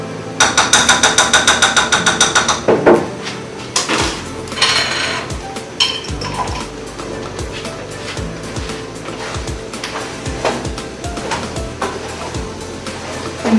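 Metal utensil stirring food in a cooking pot, opening with a rapid run of bright clinks, then scattered scrapes and knocks against the pot, close and fairly loud with no talking.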